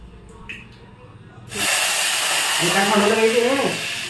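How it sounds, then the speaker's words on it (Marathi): Dal being tempered with a tadka in a home kitchen: a sudden loud, steady sizzling hiss bursts in after quiet moments and holds, with a voice talking over it near the end. "ती फक्त वरणाला तडका देत आहे"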